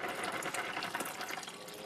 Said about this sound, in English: put some more water